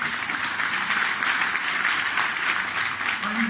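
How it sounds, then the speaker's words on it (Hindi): Crowd applause at a BJP political rally in Goa, a steady sustained wash of clapping from a large audience that holds evenly throughout without a break. "ताली बजा दो एक बार सब।"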